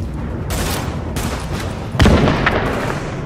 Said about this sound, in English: Throw a grenade at them.